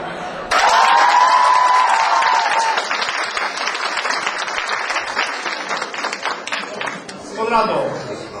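An audience at a school gathering bursts into loud, dense applause for the director, a sustained roar of clapping with some cheering that tapers slightly before a brief voice rises near the end.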